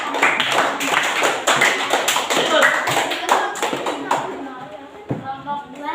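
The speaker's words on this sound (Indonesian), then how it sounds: "kita tepuk tangan untuk kelompok 1" A school class claps together for a presenting student group, quick rhythmic hand claps from many children, with voices underneath, then fading into chatter.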